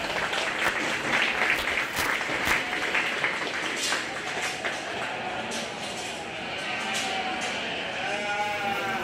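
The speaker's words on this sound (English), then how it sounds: "Give those exhibitors a nice round of applause." Audience applause for exhibitors at a county fair 4-H sheep and lambs show. Sustained, fairly loud clapping runs throughout, mixed with sheep bleating nearby.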